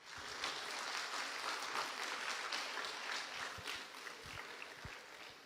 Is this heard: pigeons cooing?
no